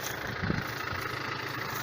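A Yanmar FX 305 tractor engine runs steadily while mowing a field, a continuous close mechanical drone with a constant hum and no talk.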